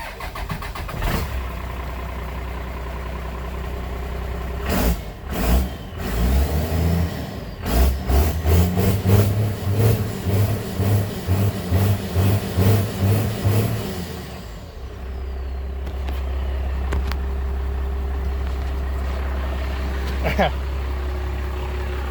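A 12V Cummins diesel cranks and fires up with no exhaust pipe fitted, then settles into a loud, rough, throbbing idle with a steady low rumble; a few voices speak over it.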